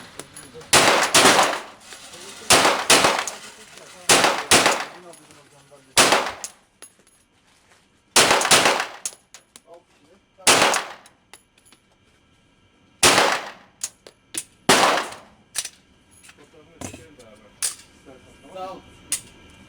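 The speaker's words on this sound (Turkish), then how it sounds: "Tabanca gerçekten çok sakin çalışıyor." Beretta APX pistol shots ring out in a series of loud, sharp reports, some single and some in quick pairs, each with a short metallic ring, separated by pauses at an outdoor range.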